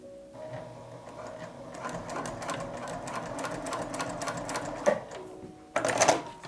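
A Juki TL 2010Q sewing machine stitching through four layers of vinyl, running in a fast steady rhythmic chatter that builds in loudness, then stopping briefly before a short louder burst of stitching, close and alone.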